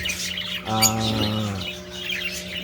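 Rainbow Hagoromo parakeets squawk close by, one harsh, harmonic call standing out over a background of continuous chirping and chatter.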